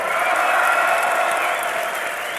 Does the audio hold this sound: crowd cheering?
yes